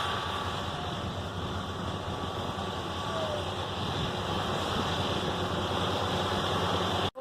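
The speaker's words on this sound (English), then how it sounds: "The chickens freak out when the tractor goes by because it's so loud." A loud tractor cutting hay on a farm rumbles steadily nearby, its engine drone continuous and unbroken for several seconds before cutting off abruptly.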